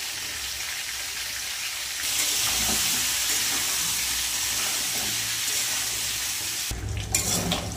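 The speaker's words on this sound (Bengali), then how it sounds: "আলুটা একটু ভেজে নেবো হালকা করে।" Boiled potatoes, salted, frying in hot oil: a steady sizzle that swells louder partway through, with occasional stirring scrapes, then a sharper clatter near the end.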